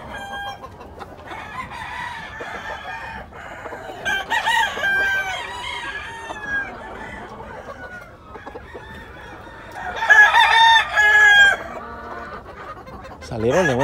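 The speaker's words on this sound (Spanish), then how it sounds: "Gallo Giro Mule Train con cabeza redonda." A Gallo Giro Mule Train cross rooster with a round head crows loudly and close on a farm, with other fowl clucking around it; several crows ring out over a steady background of birds.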